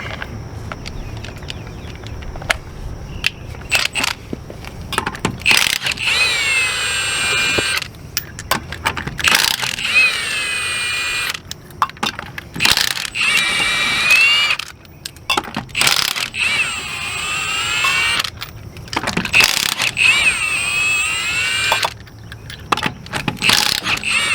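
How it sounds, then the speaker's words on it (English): A Milwaukee M18 cordless impact wrench spins off RV wheel lug nuts in repeated loud bursts of rattling, hammering whine, separated by brief pauses and small clinks of sockets and nuts, close up with no talk. "when I was taking them lug nuts off"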